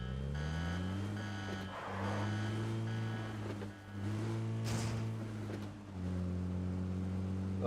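A car engine in the PUBG battle-royale game idles with a steady, loud harmonic hum, dipping briefly twice and then resuming, with no talk over it.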